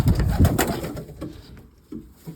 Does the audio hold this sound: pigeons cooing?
yes